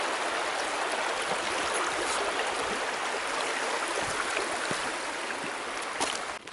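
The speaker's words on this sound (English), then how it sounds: "it's like a little mini river crossing" A small stream flowing over rocks at a mini river crossing on a mountain hike, a steady close rushing and babbling of water with no voices.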